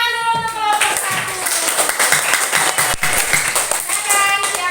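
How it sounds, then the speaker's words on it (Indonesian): A classroom of students claps for group 1, a lively burst of close, uneven hand claps with children's voices chattering over and between them. "kasih tepuk tangan dulu untuk kelompok 1"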